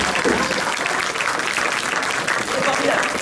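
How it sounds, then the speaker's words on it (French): A concert audience applauds loudly and steadily, dense clapping filling the room without letup, with a voice faintly audible beneath it. "j'aimerais qu'on applaudisse bien fort quelqu'un sans qui nous ne serions pas là aujourd'hui"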